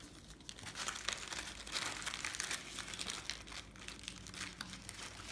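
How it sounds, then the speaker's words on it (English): Deco mesh ribbon for a spring wreath door swag is squeezed and handled, giving a steady, close, papery crinkling and crackling that continues for several seconds without speech. "And you can hear it just crackling."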